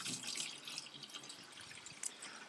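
Liquid solution pours into a watering can at an allotment, a faint, steady splashing wash of water with a few brighter drips.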